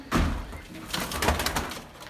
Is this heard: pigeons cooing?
yes